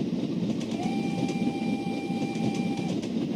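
Train running steadily on rails, with a continuous rumble and faint clatter, a sustained tonal whine held for about two seconds, moderately near and without voices.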